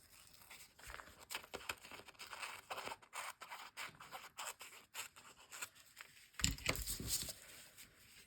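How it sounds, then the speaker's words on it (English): Scissors snip repeatedly through paper in a quick, uneven rhythm of crisp cuts, fairly quiet and close, with a louder rustle near the end. "I have to come in with the scissors here."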